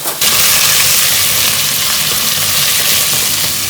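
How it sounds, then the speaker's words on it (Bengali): Four eggplant slices fry in hot oil, a dense, steady sizzle that begins abruptly and continues loud and close throughout, with no talking. "4টে বেগুন ভাজা"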